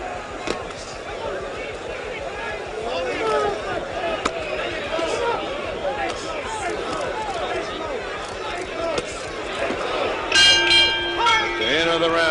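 A boxing bell rings out to end a round in the third Muhammad Ali–Ken Norton fight. It clangs near the end, over loud arena crowd noise and a commentator talking.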